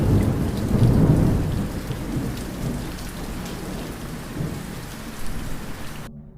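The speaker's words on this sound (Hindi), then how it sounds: "अचानक आसमान बादलों से भर गया और ज़ोर ज़ोर से गरज गरज के बारिश करने लगा।" Heavy rain pours steadily in a thunderstorm, with a deep rolling rumble of thunder swelling early and fading under the constant downpour. No voices.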